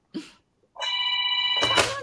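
A landline telephone rings in a hotel room: a steady, bright electronic ring lasts under a second, up close, after a brief earlier sound and before a louder burst of noise.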